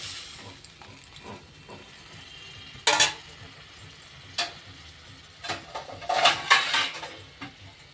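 Water poured into a frying cauliflower and potato curry, stirred with utensil scrapes; low sizzling gives way to bursts of hissing and clatter near the start and again toward the end, close and moderately loud.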